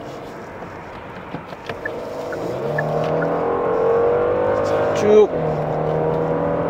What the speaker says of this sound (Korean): 가속을 해보는데 꽉 찬 힘이 이 차를 아주 거침없이 끌고 나갑니다